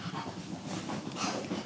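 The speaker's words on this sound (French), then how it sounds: "C'est dur de se concentrer avec deux chiens qui se fight." Two dogs scuffle together indoors, a close, brief burst of growling, huffing and panting.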